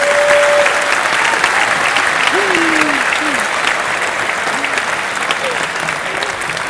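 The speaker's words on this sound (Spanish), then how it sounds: "Un fuerte aplauso para él." Loud, sustained applause from a crowd at a children's folk jota performance in Logroño, steady broadband clapping filling the whole stretch with faint voices calling out briefly underneath.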